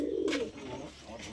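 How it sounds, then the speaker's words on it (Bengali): A pair of Surmai Madrasi pigeons at a loft coo softly, with two or three low, rounded coo phrases close by and a faint airy background between them. "সুরমাই জোড়া, খুব সুন্দর ওভারঅল পায়রার বিউটি, আপনারা দেখুন"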